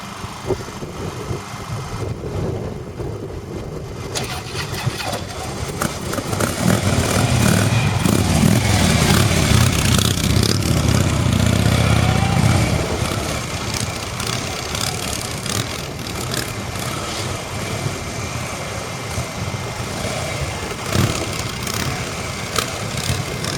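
A motorcycle engine hums through a practice turning exercise, swelling louder for several seconds as the bike accelerates and leans through the turn, then settling back to a steadier drone, with no talking.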